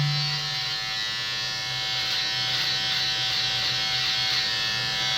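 An electric shaver trims mustache and beard hair, giving a steady close buzzing drone with slight changes in pitch as it moves over the hair, continuous and alone.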